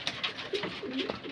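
Pigeons cooing in a loft as adult birds are about to be fed, soft repeated throaty coos with a few sharper flutters, close but fairly quiet.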